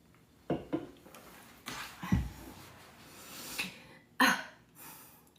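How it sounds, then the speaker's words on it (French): A woman with a bad winter cough coughs in several short, harsh bursts spaced a second or two apart, close and fairly quiet, with soft breathing between them. "J'ai la même toux, c'est horrible."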